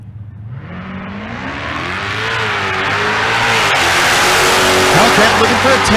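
A Dodge Charger Hellcat launches hard down a Bandimere drag strip, its engine roaring loud and close and climbing in pitch as it accelerates, building to a sustained full-throttle howl over about six seconds.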